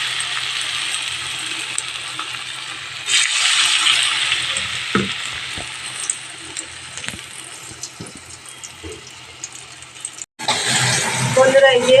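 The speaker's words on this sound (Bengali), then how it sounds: "বড়াটা একটা একটা করে বড়া ভেজে নেব।" Mushroom fritters (bora) fry in hot oil with a steady, close crackling sizzle that swells around a third of the way in, breaks off for an instant near the end, then returns.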